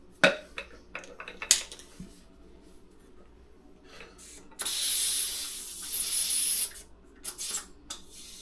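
A hand pump inflating a fat bike tyre, a 27.5 x 3.0 Maxxis High Roller 2, with a few scattered knocks and clicks followed by a sustained hissing rush of air lasting about two seconds, then short bursts.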